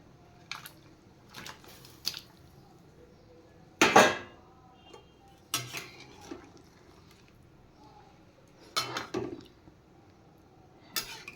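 Fried fish pieces dropped into boiling curry broth in a pot, heard as a few separate soft splashes and utensil clinks against the pot, spaced out over several seconds with quiet gaps between.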